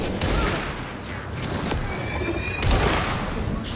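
Gunfire in the video game Alan Wake 2, a few sharp, loud shots cracking over a dense, noisy background, spaced irregularly across a few seconds.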